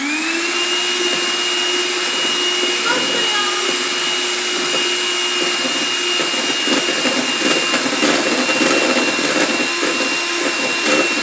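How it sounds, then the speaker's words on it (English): A kitchen blender runs continuously while making a no-bake cheesecake, giving a loud, steady motor whir with a high whine that holds throughout, its texture roughening slightly toward the end. "Time for the blender."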